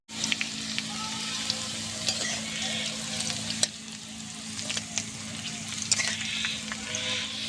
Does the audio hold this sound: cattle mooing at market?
no